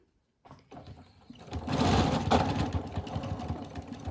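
A sewing machine stitches a fabric mask, starting after a brief silence and building into a loud, steady mechanical whir with rapid needle rhythm, repeated over the same spot.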